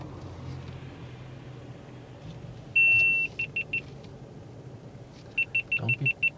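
Sharp electronic beeps cut through a low car engine hum: one long tone, then a quick series of short beeps, and later another rapid burst.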